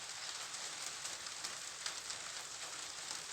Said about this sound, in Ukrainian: А на вулиці. Знову дощ.